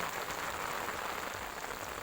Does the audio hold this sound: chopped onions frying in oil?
no